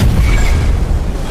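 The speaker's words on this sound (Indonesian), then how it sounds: "Lihat kekuatan ledakan itu" An animated jade explosion: a loud, deep rumbling boom that fills the space and rolls on without a break, heavy with low-end roar.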